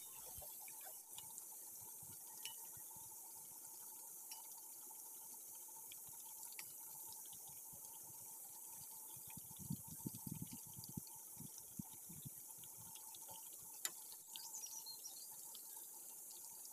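Banana blossom and minced pork fritters frying in oil over low heat give a steady, faint, hissing sizzle that runs unbroken throughout, with a few slightly busier bubbling moments in the middle.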